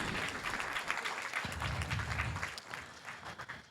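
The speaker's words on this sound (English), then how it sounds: "let's give ourselves a round of applause" A meeting audience gives a steady round of applause, dense clapping that holds at an even level, then thins and tapers toward the end, with faint low voices underneath.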